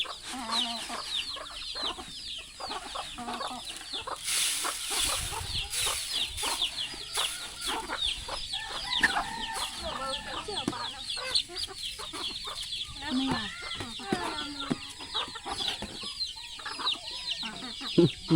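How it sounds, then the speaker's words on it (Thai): Many chickens cluck and chatter continuously as they feed in a rural Lao village yard, a dense close flock with occasional louder squawks and a faint voice in the background. "โอ้ไก่หลายเลยมานั่งกินอยู่นะไก่มากินอยู่นะ"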